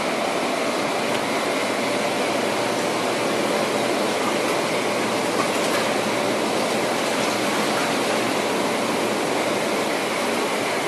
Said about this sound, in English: We're going to turn on our jets and we're going to pour it over the filters nice and gradually.